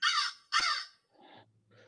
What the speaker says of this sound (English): It's only a bird.